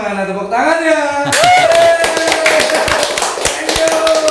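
Audience at a Kabupaten Tangerang event breaking into dense, close applause after a sung or held tone, many hands clapping steadily and loudly for several seconds.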